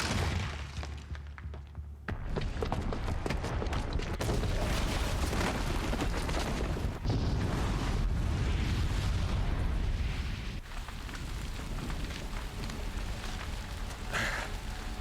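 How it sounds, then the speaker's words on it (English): A bomb going off in Horizon Zero Dawn, a loud, dense roar of blast and rumbling debris that fills the space and fades into a sustained crackling wash. "the booby trap on the bomb downstairs is gonna get set off"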